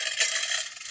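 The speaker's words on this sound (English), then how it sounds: "here's a coin dropping in a tin" A coin dropping into a tin: a single bright metallic clink rings out, close and brief, with a short shimmering tail.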